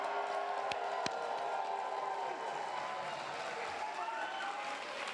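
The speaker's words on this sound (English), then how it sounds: "let's have a cheer for those who are from Virginia and the Carolinas." An audience at the SUUSI 2022 Ingathering cheers and claps, a steady wash of crowd noise sustained for several seconds with a couple of sharp knocks near the start.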